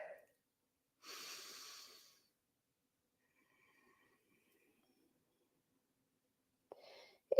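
A person breathes deeply during an energizing morning yoga session, with one soft audible breath and a short sigh-like exhale separated by near silence in a quiet room.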